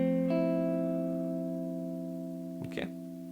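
A guitar major chord rings and slowly fades, close and clean, before the strings are briefly scraped or touched again near the end.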